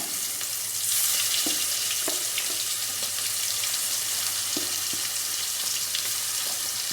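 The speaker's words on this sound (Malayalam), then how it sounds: "ഞാനതിൽ എണ്ണയിൽ വെക്കുകയാണ്" Marinated chicken pieces frying in hot oil, a steady close sizzle with occasional sharper pops and crackles throughout.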